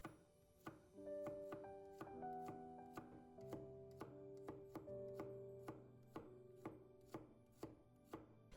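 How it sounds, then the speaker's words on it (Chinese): A kitchen knife slicing garlic cloves into thin slices on a cutting board, with steady, evenly spaced chops throughout, close and distinct over soft melodic background music. "把大蒜切成薄片。"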